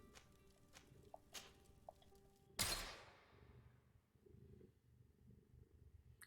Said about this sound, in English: I don't know if you guys can hear these Teo purrs, but they are very loud.